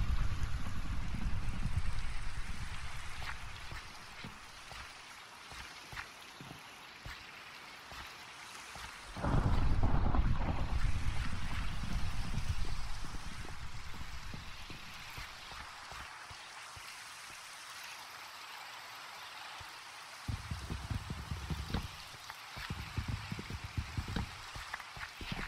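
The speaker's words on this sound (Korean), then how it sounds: "비가 오는 건 알고 있니?" Rain falls in the video game Minecraft as a steady soft hiss throughout, broken by a few louder bursts of other game noise.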